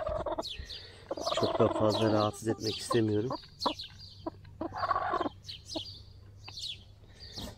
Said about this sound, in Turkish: şu grup tavuğumuza bakalım